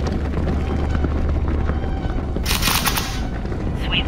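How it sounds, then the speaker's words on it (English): Dense gunfire in an animated jungle battle, a sustained rattle of shots under a loud, continuous din, with a sharper burst of crackling fire in the middle and no voices. "Sounds like gunfire."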